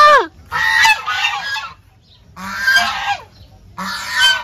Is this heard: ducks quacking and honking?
yes